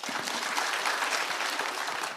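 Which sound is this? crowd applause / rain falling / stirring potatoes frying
crowd applause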